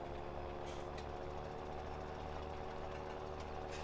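John Deere tractor engine in Farming Simulator 17 running steadily after start-up, a continuous low droning hum with even vibration, moderately quiet and heard alone without talk.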